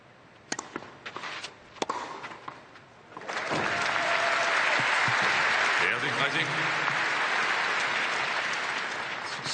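At a women's tennis quarterfinal between Osaka and Vekic at the 2019 Stuttgart tournament, a few sharp ball strikes come first. Then broad, sustained crowd applause breaks out and keeps going strong to the end.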